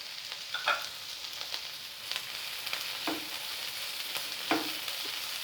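Vegetables with thinly sliced capsicum sautéing in a pan for chapathi noodles, a constant bright sizzle with a few scattered stirring scrapes, close and fairly quiet.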